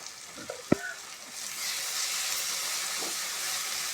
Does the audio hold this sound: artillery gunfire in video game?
no